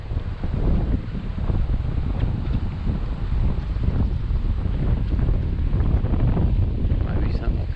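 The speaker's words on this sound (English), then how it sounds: "Wind's blowing so hard right now" Strong wind buffets the microphone outdoors while fishing with a worm for bait, a steady roaring rumble that fills the whole stretch, with faint water and boat sounds beneath.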